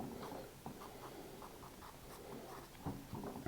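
Pen scratches steadily across paper while math solutions are written out, a close, quiet, continuous scribbling with small strokes and pauses.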